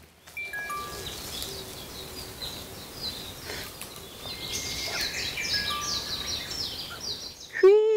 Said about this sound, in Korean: 아우, 새소리도 정말 크네요.